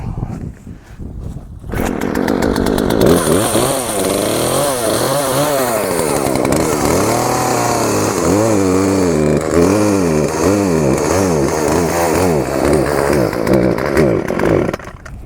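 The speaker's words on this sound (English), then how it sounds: "Chainsaw's always a little temperamental when it first starts up." A temperamental chainsaw catches after a quiet start and then runs loud and close, its engine revving up and down in repeated surges before settling into a steady buzzing idle and rev.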